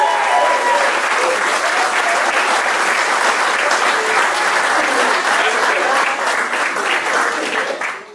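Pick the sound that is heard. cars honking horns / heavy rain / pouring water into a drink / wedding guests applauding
wedding guests applauding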